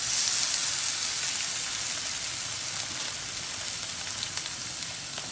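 Washed, drained liver frying in a pan for a Kerala-style liver fry gives a steady, dense hiss of sizzling oil, even and close throughout with no voices.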